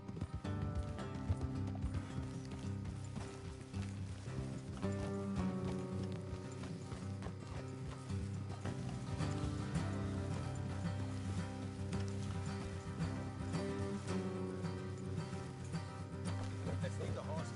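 Horse hooves clip-clop steadily at a run in Red Dead Redemption 2 over the game soundtrack, with occasional whinnies and mechanical rattles layered underneath; continuous and fairly loud.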